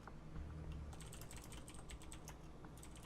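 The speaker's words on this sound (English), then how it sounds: "I'm like typing in like a bunch of combinations right now" Keys clatter on a computer keyboard in a quick, uneven run of soft clicks. A low background hum sits beneath the typing, and no one speaks.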